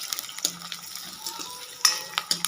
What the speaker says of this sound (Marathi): कांद्याला छान असं फ्राय करून घ्यायचं थोडंसं